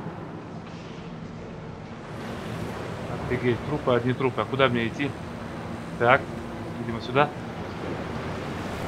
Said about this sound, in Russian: Вода.